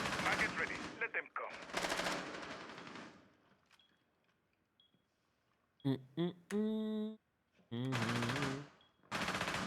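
Rapid bursts of automatic gunfire in the tactical shooter game Rainbow Six, mixed with game effects and broken up by stretches of a player's talking.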